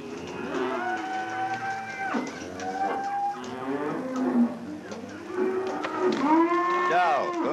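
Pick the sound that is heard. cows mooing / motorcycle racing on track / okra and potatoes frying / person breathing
cows mooing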